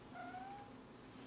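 A house cat meows once, a soft, drawn-out rising cry close by in a quiet room, followed by a faint brief click.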